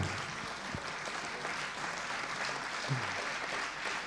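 Quiet, distant audience applause fills a hall at an accessibility awards ceremony, a soft, even bed of clapping with a couple of faint thumps.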